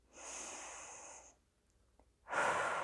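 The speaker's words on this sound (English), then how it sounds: "Take one more deep breath in and out." A deep breath in and out at the close of a full-body yoga stretching session: a long, fairly loud breath, a short quiet pause, then a second strong breath starting near the end, with no talking.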